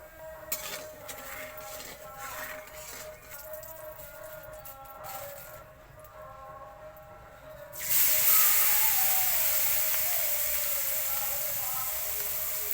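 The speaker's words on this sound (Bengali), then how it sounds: "এই মাছটা ভেজে নেবো। চুনো মাছ, শুটকি চুনো মাছ।" Small dried fish fry in hot oil, a quiet crackle with light pops that suddenly swells into a loud, continuous hissing sizzle which holds and slowly eases.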